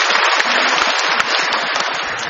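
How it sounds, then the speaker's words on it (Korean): An audience applauds loudly and steadily at a bilingual Korean-English church gathering, a dense continuous wash of clapping hands that stays strong throughout, with no voices over it. "Can we give them a big clap?"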